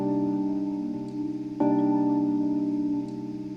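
A sampled musical phrase plays back with sustained harmonic tones that shift pitch partway through, steady and moderately quiet with no talking.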